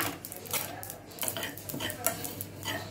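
Cashews and sesame seeds stirred in a pan for a mango mutton curry, with quick metal spoon scrapes and light clinks over a soft frying hiss, close and fairly quiet.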